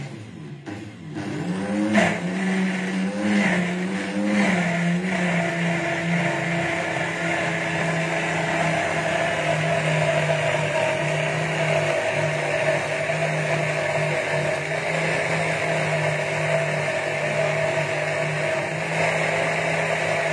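A kitchen blender whirs as it mixes a homemade emulsion, spinning up over the first couple of seconds and then holding a steady, loud motor drone with a constant hum.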